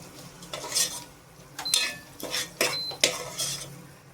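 Utensils scrape and clink against a pan as tomatoes are stirred and sautéed for mutton biryani, with several distinct strokes in an irregular rhythm and a faint sizzle underneath, close and moderately loud.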